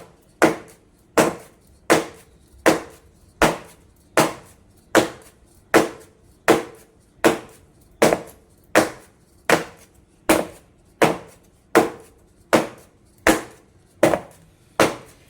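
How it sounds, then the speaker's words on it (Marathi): A buttered cake tin filled with banana cake batter is tapped firmly against a counter about twenty times in a steady, evenly spaced rhythm, each knock sharp and close, with no talk. "आधी ह्याला टॅपिंग करून घेऊया."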